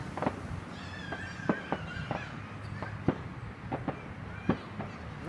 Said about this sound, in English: I knew we were going to shoot off some fireworks somewhere down there.